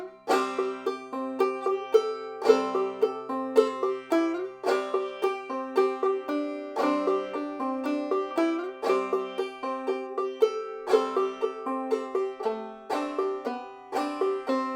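A clawhammer banjo plays the old-time tune Fly Around up to tempo, with bright plucked notes and a brisk, bouncing rhythm that keeps going steadily throughout.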